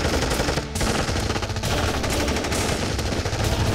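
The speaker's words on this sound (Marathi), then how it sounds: "इथे कंटीन्यूअस ग्रेनेड ब्लास्ट आणि फायरिंग सुरू आहे." Continuous automatic gunfire mixed with grenade blasts from a terrorist-attack scene in a Marathi film trailer, loud, dense and rapid-fire throughout with no talking.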